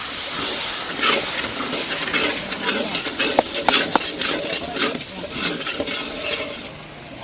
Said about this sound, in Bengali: আগে একটু জল দাও বন্ধু, মশলাটা সুন্দর করে কষিয়ে নিই।